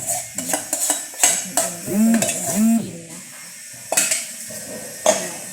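Glass noodles go into a pan and are stirred, with clanking utensil-on-pan scrapes and knocks in irregular bursts and a faint sizzle underneath, close and fairly loud.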